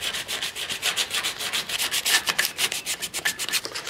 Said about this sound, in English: I think you might need actual sandpaper.